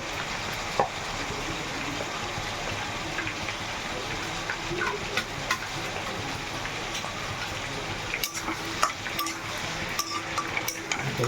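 Garlic and onion frying in a pan, a steady close sizzle with occasional clinks and scrapes of a spatula against the pan throughout, no voices.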